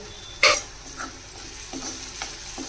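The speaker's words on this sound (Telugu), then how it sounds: "బాగా కలపాలండి ఇదిగోండి చక్కగా వేగిపోయింది" Onions fry with chili powder and coriander powder for a mutton brain (bheja) fry, a spoon stirring the pan with one sharp clink, then a soft, steady sizzle and faint scraping throughout.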